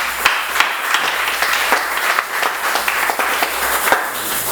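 A church congregation applauds during a French-language service, steady mid-loud clapping from many hands with sharper individual claps standing out throughout.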